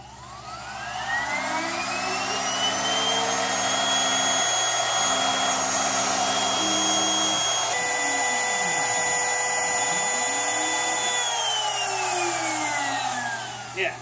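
A CNC router runs a program: the spindle motor winds up to a high whine, holds a steady tone while stepper motors buzz and sweep in short moves, then the spindle winds down near the end, close by without speech.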